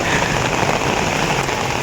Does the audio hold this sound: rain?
yes